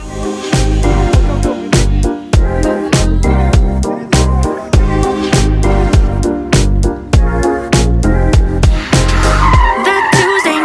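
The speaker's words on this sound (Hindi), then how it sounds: "अभी सामने हमें एक एवाटार 12 ने जो ड्रिफ्ट करके दिखाया था" An Avatr 12 car drifts on a test track in China, its tires squealing and skidding loudly and steadily for the whole stretch, with rhythmic surges as the car slides through turns, and no talking over it.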